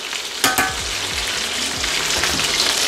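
Breaded chicken for chicken parmesan sizzles steadily in hot oil, a loud broadband crackle with a sharper burst near the start and low clatter as the pieces are turned.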